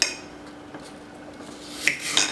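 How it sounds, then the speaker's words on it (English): A knife cutting a slice off an apple, a faint scraping rasp that builds to two short, sharper cuts near the end, close and quiet with no talk. "We're just gonna slice a piece off."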